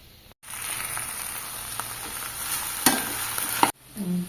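Okra sizzles steadily in hot oil with a bright crackling hiss, broken by a few scraping stirs and a brief pause near the end.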